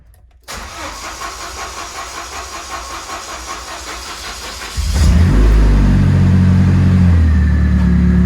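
A 2005 Chevy Colorado engine cranks steadily with a rhythmic, pulsing starter churn for several seconds, then catches and roars into a loud, deep running rumble close by.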